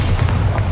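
A deep, booming blast from the Bombarda explosion spell in Hogwarts Legacy: one loud, dense low rumble sustained across the short moment.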